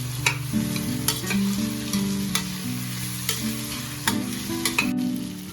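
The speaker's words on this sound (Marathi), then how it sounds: "कांदा चांगला लालसर होईपर्यंत परतून घ्यायचा" Onions and tomatoes for pav bhaji sauté in a pan with a steady sizzle under repeated close stirring and scraping, while a strong tonal hum runs through the whole stretch.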